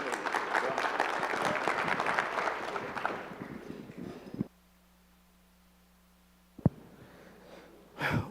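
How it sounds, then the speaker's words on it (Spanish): Audience applause at a forum session on BGP routing, a dense clapping wash for about four seconds that cuts off into near silence, with a sharp click later. "Así que les pido un aplauso para Alejandro Acosta."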